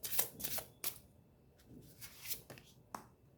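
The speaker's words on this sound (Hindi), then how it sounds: "एंड ट्रू लव ऑरिकल से भी मैं 2 कार्ड निकालूंगी।" Tarot and oracle cards are shuffled and drawn, heard as soft, close rustles and flicks in uneven bursts, with quiet pauses between them.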